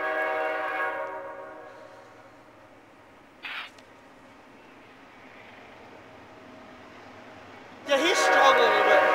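A CSX freight train hauled by AC6000 locomotives moves slowly past, sounding a long horn blast, then a short one, with rumbling and squealing wheels rising near the end while people talk.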